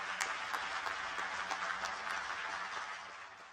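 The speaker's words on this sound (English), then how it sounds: "Let there be a big round of applause which you can hear." A round of audience applause at the inaugural session of a national scientists' round-table conference, soft and somewhat distant, a steady wash of clapping that fades slightly toward the end.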